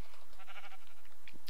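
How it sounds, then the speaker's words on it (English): Sheep bleat in a modded Minecraft game, two wavering cries one after the other, moderately loud, with no talk over them. "We've got some naked sheep."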